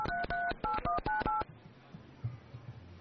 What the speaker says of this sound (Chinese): 接通电话。